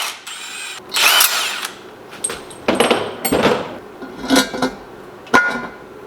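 A power tool tightens bolts during a turbo kit install, firing in several short whirring bursts separated by pauses, with metallic clinks and handling noises of parts and tools in between.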